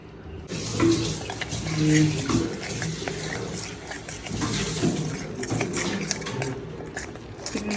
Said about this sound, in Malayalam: ഇതിലോട്ട് നമുക്ക് കുറച്ച് വെള്ളം ഒഴിച്ച് ഇതിനൊരു പേസ്റ്റ് ആക്കി എടുക്കാം.